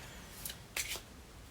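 A deck of Lenormand cards is shuffled in the hands, giving two quick soft riffling bursts, close but faint, against quiet room noise with no talk.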